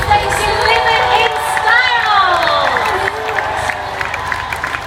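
A large crowd cheers and shouts at a homecoming parade in Manchester for gold-medal-winning athletes, with a continuous roar of voices, rising whoops and scattered clapping filling the whole stretch.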